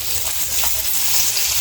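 Oil hits a hot pan and sizzles loudly and steadily for under two seconds, a dense continuous frying hiss with faint clinks underneath and no voices.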